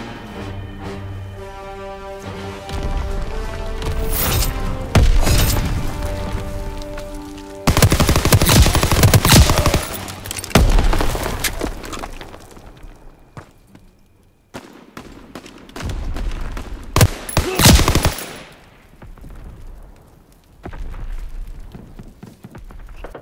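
Call of Duty WWII gameplay crackles with machine-gun bursts and rapid rifle fire, loud volleys broken by short pauses and distant shots, with no speech over them.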